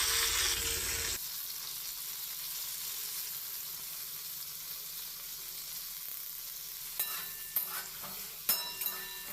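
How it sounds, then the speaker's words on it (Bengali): Pointed gourd (potol) frying in oil with salt and turmeric hisses in a steady, close sizzle, opening with a louder burst and ending with a few sharp spatters and stirring knocks. "পটলটাকে আমি নুন হলুদ দিয়ে প্রথমে ভেজে নেব"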